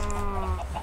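Chickens on a farm in the Minecraft video game give short, overlapping clucks against a steady background hum, with no talking over them.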